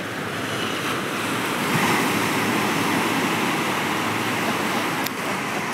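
Ocean waves surging continuously in a loud, broad roaring wash, close by and steady, with no pauses and a brief faint knock near the end.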